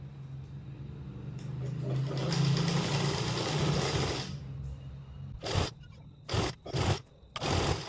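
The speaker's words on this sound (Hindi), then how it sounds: "ये जो हमारा बेल्ट है इसे हम पूरा ऐसा सिलाई लगा लेंगे।" An electric sewing machine runs a long steady stitching pass along a plazo waistband belt, a continuous close whir, then stops and restarts in several short bursts at the end.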